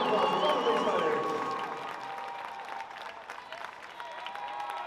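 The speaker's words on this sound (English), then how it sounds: "a huge round of applause for both of these fighters" A crowd at an armored mixed martial arts bout applauds both fighters after the result, clapping and cheering that starts loud and gradually thins, with voices talking over it.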